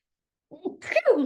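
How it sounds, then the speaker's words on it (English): A person sneezes once during an indoor conversation, a short sharp burst that follows a brief silence, close and fairly loud. "Bless you. Hello, sneeze."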